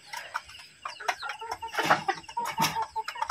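Five free-range domestic country chickens on a small backyard farm clucking nearby, a busy run of short, overlapping clucks and squawks, fairly loud and close with no talk.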